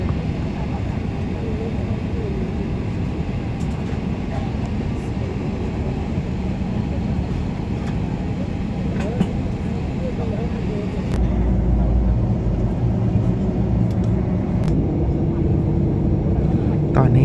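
An airliner at Gaya airport in India prepares for takeoff, giving a loud, steady roar of jet engines heard from outside the airfield. The roar swells and deepens partway through, and voices may be faintly present.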